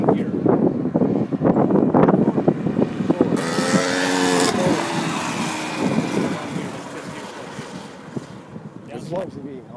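Car engine revving and dropping through upshifts and downshifts while driving, with rising and falling tones partly under wind noise and people talking.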